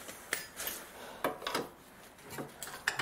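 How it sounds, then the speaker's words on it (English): A bolt being wiggled and pushed into place on an Audi A4 Avant S-line front lower suspension control arm: scattered faint scrapes, rubs and light metallic knocks at close range, irregular and quiet, with no speech. "So now I'm just trying to fit the bolt up there."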